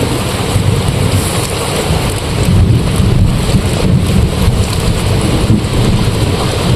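Monsoon rain falls steadily outdoors, a dense, even hiss of drops that stays loud and unbroken for several seconds, with a faint deeper rumble underneath and no voices.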